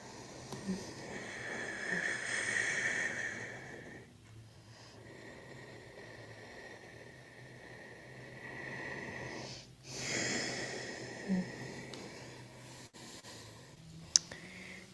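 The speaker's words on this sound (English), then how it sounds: "Nice, long, slow, steady, full breaths" Slow, deep breathing during a quiet yoga class, with two long, soft swells of air, each lasting several seconds, separated by stillness and heard alone.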